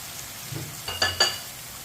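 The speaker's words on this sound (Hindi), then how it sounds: "चिकन को भी 4-5 मिनट के लिए इसी तरह फ्राई कर लेंगे" Chicken pieces frying in a pan, a soft steady sizzle with a few brief stirring scrapes and clinks, close and fairly quiet.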